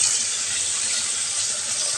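Steady rush of running tap water as raw chicken is washed under it, hissy and continuous at close range, with no talking.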